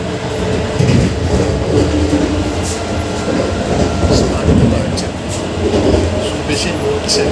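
Inside a moving Vande Bharat Express train, a loud, constant rumble with rattling, clattering, and periodic clicks from the wheels and carriage.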